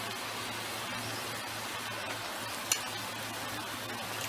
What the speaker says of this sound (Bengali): এই করে আমি এখন এই বাদ বাকি শাকটাও এর মধ্যে দিয়ে দিচ্ছি।